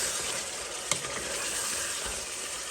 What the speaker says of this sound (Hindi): इसको अच्छी तरह भूनते हैं।